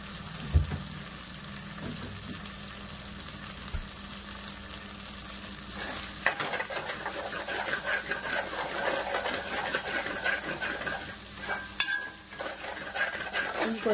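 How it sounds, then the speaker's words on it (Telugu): Ginger garlic paste fries in a pan for a goat head curry, giving a continuous close sizzle with repeated stirring scrapes and a few soft knocks against the pan. "అల్లం వెల్లుల్లి పేస్ట్ అనేది ఇంకొద్దిగా ఫ్రై అవ్వాలండి."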